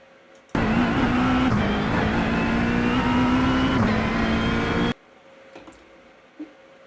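A GT3 race car in a racing video game accelerates hard out of a tight first-gear corner at Belle Isle. The engine note is loud and sustained and rises steadily for about four seconds, then cuts off abruptly, leaving near silence.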